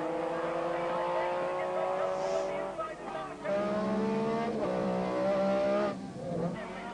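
Rallycross race cars roar around a corner, engines revving and shifting pitch as they chase each other closely, with a commentator talking over the loud, continuous engine noise.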